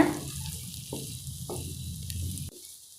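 Egg being stirred and fried in a pan for egg kothu chappathi, a close sizzle with a few scraping stirs, the frying cutting off abruptly near the end.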